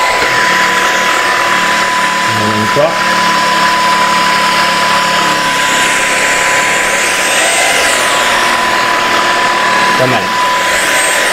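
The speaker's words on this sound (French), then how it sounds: "Il arrive à bien sucer le tapis." A Tineco Floor One S7 Combo wet-dry vacuum cleaner runs steadily on carpet with a constant whine and hum, close and loud, while a person speaks over it.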